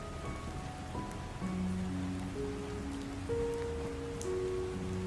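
Rain falling outside at night, a soft continuous patter of drops on surfaces, moderately quiet and steady, with faint tonal background sounds over it and no talk.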